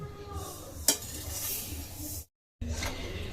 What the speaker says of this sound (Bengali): কতগুলো বাদাম ভেজে নেব কম আঁচে